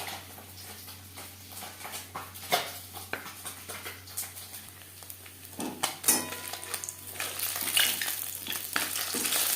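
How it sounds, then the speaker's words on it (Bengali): Bele fish fry in a pan with a busy crackling sizzle, mixed with scraping and clinks of cookware. The sizzle grows louder and denser toward the end, with no speech. "প্রথম ব্যাচের মাছ ভাজা হয়ে গেছে, একটা পাত্রে উঠিয়ে নেব।"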